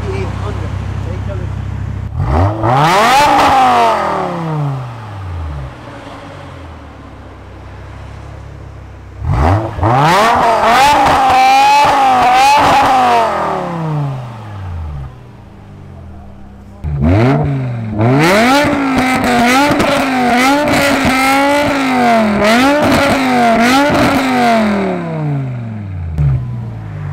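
A BMW M5's 5-liter naturally aspirated V10 is revved in three separate high-pitched, climbing runs, loud and close, with a voice talking over the engine.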